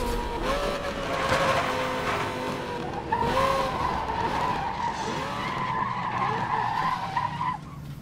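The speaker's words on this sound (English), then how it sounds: "Beautiful sounds of the Lambo right there." Lamborghini Gallardo in the racing game Need for Speed: Most Wanted (2012), a loud revving engine over long squealing tyre skids, sliding pitches that rise and fall across about eight seconds, with no talking.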